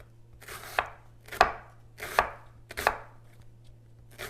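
An onion being cut into thin pieces with a knife for pakoras, four or five crisp chops on a board at an even, unhurried pace, close and clear.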